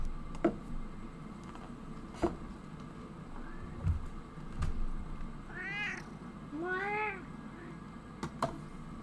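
A cat in the video game Disco Elysium meows twice in a row, clear rising-and-falling calls over a low ambient drone, with a few sharp clicks scattered around them.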